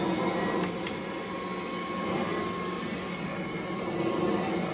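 A 1989 Kirby Heritage 2 Legend 2 vacuum cleaner runs on carpet with a steady, dense motor roar and airy whoosh, constant throughout with only a couple of faint ticks early on.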